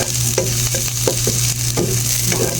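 Vegetables sautéing for Filipino ginisang gulay, with a loud, constant frying sizzle close up and occasional clinks and scrapes of a spatula stirring the pan, no voices.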